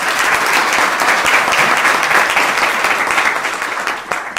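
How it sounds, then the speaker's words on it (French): Sustained applause from a crowd at a civil wedding ceremony in a town hall, steady and full throughout, with a faint voice briefly audible near the end. "Est-ce qu'on peut acclamer, s'il vous plaît?"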